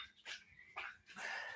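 A puppy barks and yips in a few short, bright bursts, close by during a home workout, with no talk over it.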